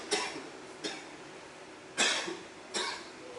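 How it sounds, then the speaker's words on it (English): Four separate coughs from a speaker with a bad cough, loud and close, spread across a few seconds in a quiet lecture room with no talk in between. "I picked up a bad cough over the last couple of days"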